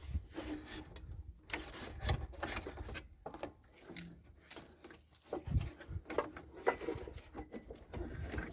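Rubbing, scraping mechanical work on a Daihatsu Copen as the worn air-conditioning pump belt is worked off, with irregular close knocks, rasps and clunks of metal and rubber at a low level.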